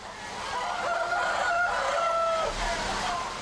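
Chickens on a poultry breeding farm cluck and crow nearby, a few drawn-out calls rising over a quiet background hum.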